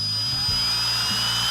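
A power drill spins the engine oil pump of a 1971 Cuda to prime it, a loud, close, steady whine whose motor pitch dips and recovers as the load changes, with no talking.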